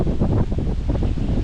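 Strong wind gusts on the summit of Mt. Pinagbanderahan in Maragondon, Cavite, a loud continuous roar buffeting the microphone with no talk.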